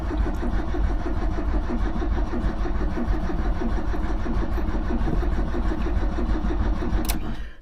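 Talbot Express van engine cranking without choke, a fast rhythmic starter churn that runs steadily and loudly for about seven seconds and then cuts off without the engine catching.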